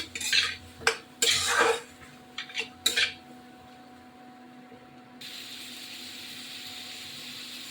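A spoon knocks and scrapes in a pan as chili is stirred during cooking of a tengra fish curry with potato and brinjal, a few loud close clatters in the first three seconds, then a steady low hiss.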